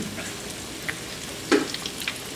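Chicken flautas fry in hot oil in a pan, a soft continuous sizzle with a brief louder crackle as one is set down, faint and close.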